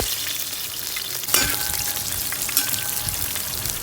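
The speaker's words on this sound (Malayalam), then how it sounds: "ചൂടായ എണ്ണയിലേക്ക് വെളുത്തുള്ളി, ഇഞ്ചി ഇട്ടിട്ട് നല്ലോണം ഇളക്കി കൊടുക്കാം." Garlic and ginger frying in hot oil, a continuous bright sizzle with a couple of sharp clinks and scrapes from stirring, close and alone.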